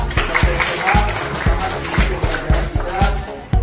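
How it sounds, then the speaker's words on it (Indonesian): Classroom students clap their hands together in a brisk, rhythmic pattern of sharp, near claps repeating every fraction of a second, with a lively room and some voices underneath. "yang hadir hari ini tepuk tangan ya"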